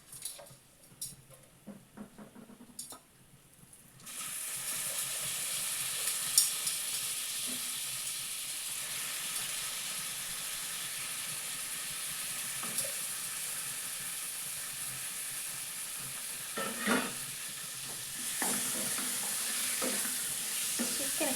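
Chicken hits a pan of masala after a few quiet seconds of faint clatter, bursting into a loud, continuous sizzle with hissing steam and occasional stirring scrapes.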